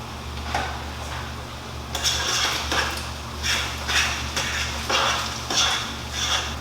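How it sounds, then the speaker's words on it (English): Spaghetti noodles stirred in a pot of boiling water, giving repeated soft scraping and sloshing strokes at a steady rhythm over a low constant hum. "Stir my noodles, because my noodles, I believe, are almost done."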